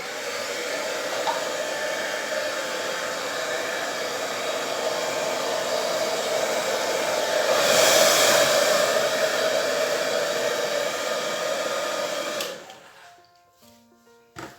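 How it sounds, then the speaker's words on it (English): A hair dryer blows steadily over wet white paint layered across colours in a Dutch pour, a loud continuous airy roar that swells briefly midway before switching off near the end. "I'm going to gently blow the white over the colours."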